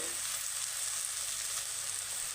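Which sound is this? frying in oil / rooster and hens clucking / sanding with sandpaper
frying in oil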